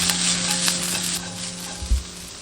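Squid tentacles are stir-fried with cumin, celery and toasted sesame, restaurant style, giving a loud, dense, continuous close-up sizzle with a single low thump near the end and no voices.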